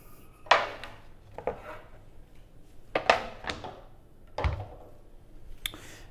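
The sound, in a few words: screwing adapter and CO2 tank into SodaStream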